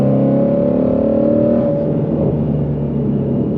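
A Ford Mustang Shelby GT350R's engine drones loudly from inside the car while cornering, a deep steady rumble that eases slightly partway through as the revs settle, no voices.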